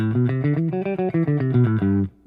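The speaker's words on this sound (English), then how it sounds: "Here's our major scale." A guitar plays a major scale in a quick ascending and descending run, clear and slightly overdriven, ending with a short ring-out.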